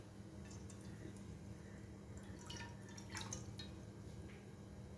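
Water trickles and splashes quietly into a kadai pan in short pouring bursts over a low background hum.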